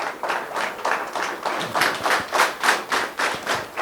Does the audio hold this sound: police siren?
no